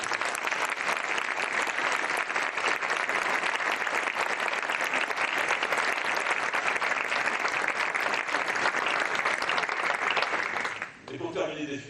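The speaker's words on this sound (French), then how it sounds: "Je pense qu'on peut vous applaudir." Sustained audience applause at a mayor's New Year address in France, a steady dense wash of clapping from a large hall lasting about eleven seconds before a voice resumes.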